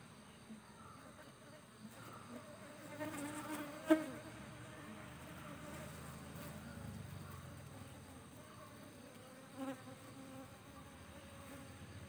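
Honey bees hum around the main hive box in a beekeeping yard, a faint, steady drone buzzing in the background with a brief louder knock partway through and soft stray sounds now and then.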